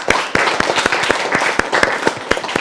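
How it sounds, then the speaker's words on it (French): Audience clapping for a student's fable at a school reading event, a dense patter of many hands close by, steady and lively throughout with a few sharper individual claps standing out. "On applaudit la fable de Daniel"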